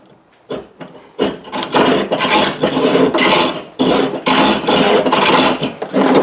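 Restored Lenox hacksaw cutting through metal held in a vise, a loud, steady run of rasping back-and-forth strokes that starts after a few brief tentative scrapes and carries on without talk.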